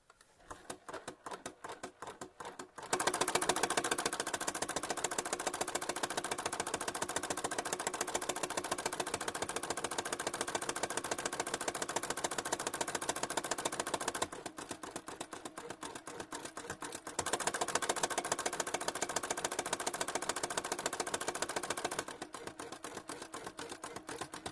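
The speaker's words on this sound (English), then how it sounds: "So now we're gonna sew the first actual buttonhole." Juki EB-1 buttonholer stitching a buttonhole into a shirt, a rapid, even mechanical clatter running in long steady stretches with brief changes in rhythm between sections, fairly quiet and close.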